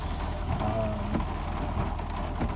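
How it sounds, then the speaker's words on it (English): Steady rain falls outdoors as a continuous broadband hiss, loud and even throughout, after a tornado with no voices. "You hear the rain."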